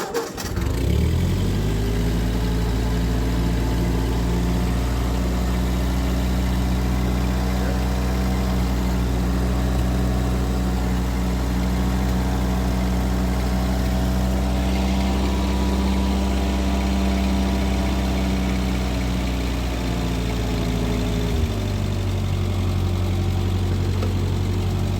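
A 1948 Ford 8N tractor engine fires up and settles into a steady, loud idle with a low, even chugging that holds for about twenty seconds, its pitch dropping slightly near the end as the throttle eases.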